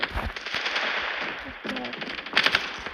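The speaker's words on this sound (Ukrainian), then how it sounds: "Що ти там стріляєш?" Rapid bursts of video game gunfire crackle continuously, with sharp automatic volleys and a louder flurry near the end, over faint background voices.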